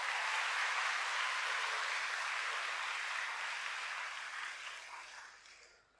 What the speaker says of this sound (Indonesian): Mari kita beri tepuk tangan untuk permainan gamelan Bali dan Jawa.